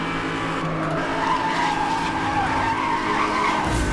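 Race car in Need for Speed: Hot Pursuit (2010) tearing along at top speed, a loud steady engine roar with tire skidding and squeal running through all four seconds, close and continuous with no talk.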